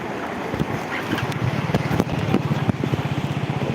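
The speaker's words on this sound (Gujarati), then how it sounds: "અત્યારે બે કાંઠે પાણી આવી ગયું છે" Fast floodwater rushes loudly in a river running bank-full after heavy rain at Mangadh, Gujarat, a broad roaring wash with rhythmic surging pulses, heard close and with no voices.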